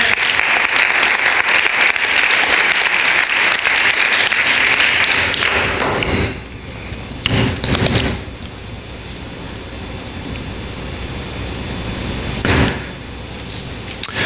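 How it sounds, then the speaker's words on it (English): A church congregation at a Wednesday night Bible study gives a loud, dense burst of hand clapping for the Lord that fades after several seconds, followed by scattered thumps and room noise. "Let's give the Lord a hand clap."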